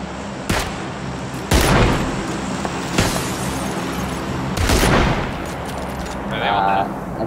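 Several loud, close gunshots from the PUBG battle royale game crack out at spaced intervals over steady game ambience, with a faint voice near the end.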